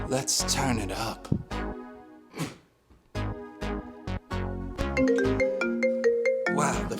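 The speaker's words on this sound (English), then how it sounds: "Wow, the phone's off the hook." A telephone rings on a radio call-in show, a bright repeating ring tone heard over music and a host's voice, with speech and sound running throughout most of the clip.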